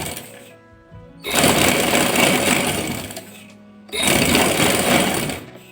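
Two long runs of a sewing machine stitching a kameez placket, each a dense mechanical whirr of a few seconds, close and steady, separated by a brief pause with a soft hum.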